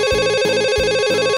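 A telephone rings at a call center, an electronic warbling ringtone repeating in steady pulses, clear and close, then cut off, with no talk.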